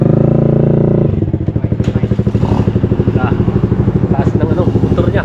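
A motorcycle engine runs close by, first a steady idle, then a rapid rhythmic popping throb as it pulls away, loud and continuous with brief clatter over it.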